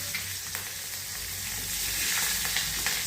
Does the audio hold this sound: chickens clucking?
no